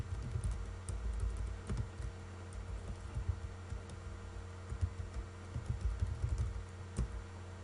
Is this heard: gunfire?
no